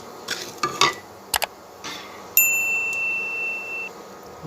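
Beans poriyal roasting in a pan on the stove, stirred with a spoon that scrapes and clinks against the metal now and then, over a faint steady sizzle, with a brief high ding partway through.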